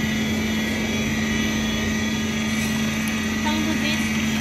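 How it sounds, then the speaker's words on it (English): A laboratory bead mill runs on test, giving a loud, constant mechanical drone with a steady low hum and a whirring hiss throughout. "Here is the testing for the laboratory bead mill."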